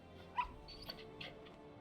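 A puppy in Final Fantasy XVI lets out a few faint, short whimpers and yips, quiet and spaced apart against a near-silent background.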